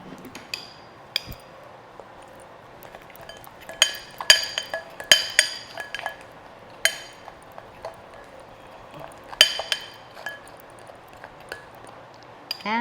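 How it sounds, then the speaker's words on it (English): Almond butter and other energy-bar ingredients such as oats, nuts and seeds are stirred together in a bowl, with a spoon clinking against the sides in irregular taps and scrapes, close and moderately loud. "Then, we are going to mix this really well."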